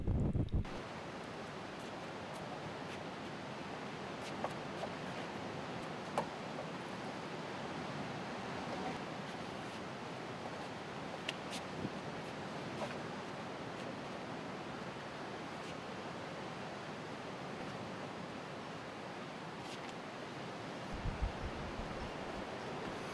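Strong wind blows outdoors by the ocean, a steady roaring rush with surf underneath, buffeting the microphone throughout with a few brief louder gusts.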